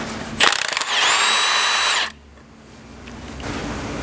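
A power tool backs out a 15mm structural member bolt during a Chrysler FWD 3.2/3.6 Pentastar oil pump replacement, whirring loudly and closely for about one and a half seconds, then cutting off, leaving a quiet shop.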